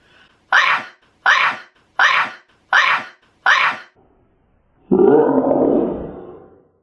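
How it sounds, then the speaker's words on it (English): Five short, evenly spaced sneezes, loud and close, followed by a longer drawn-out sneeze that trails off. "I'm gonna sneeze."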